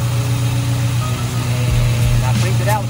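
A blue Chevy car's engine idles steadily with a low, constant hum, loud and close, with people talking over it.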